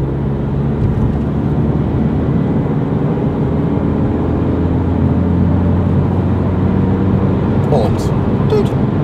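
BMW 114i with stage 1 software accelerating uphill at full throttle, a steady loud interior engine drone with rising tone, with people talking over it.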